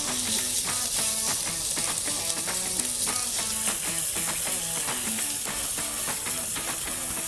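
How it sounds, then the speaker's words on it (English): Bacon renders in a hot pan with a steady, loud, continuous sizzle and crackle, close and unbroken throughout, with no voices over it. "So we start out by rendering the bacon,"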